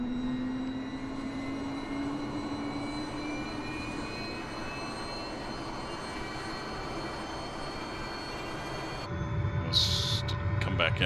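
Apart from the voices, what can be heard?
SA 315B Lama helicopter engine starting up, from a video game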